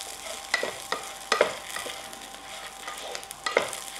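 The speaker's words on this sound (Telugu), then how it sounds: "చక్కగా వేయించుకుంటున్నాను అన్నీ" Garlic and spices for a chicken chutney sizzling in a pan, a steady close fry with soft scraping and stirring strokes every second or so, no talk.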